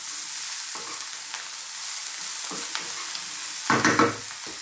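Mushrooms fry on high heat for a chickpea curry, sizzling steadily in the pan, with a few soft stirring scrapes and a louder clatter of stirring near the end.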